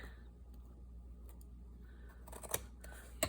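Scissors trim paper for a handmade journal with faint, soft snips over quiet room hum, ending in a couple of sharper cuts close by.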